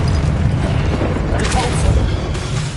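A Confringo fire spell explodes during Hogwarts Legacy combat on PS5, a loud, dense boom with crackling, metallic rumble lasting the whole moment.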